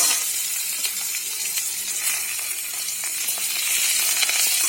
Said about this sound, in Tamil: நம்ம கட் பண்ணி வச்சுருக்கிற வெங்காயம் சேர்த்துக்கலாம். அதுக்கப்புறம் அதையும் சேர்த்து ஒரு 2 நிமிஷம் நல்லா வதக்கி விடலாம்.